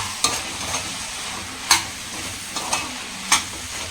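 Beetroot and carrot stir-fry with lentil powder being stirred in a pan: a few sharp scraping clicks of the spoon at irregular intervals over a low, steady sizzle, close and moderately loud, with no talking.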